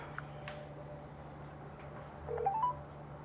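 A telephone dials a number: a few brief, faint keypad tones beep in quick succession over a quiet, hissy background with no talking.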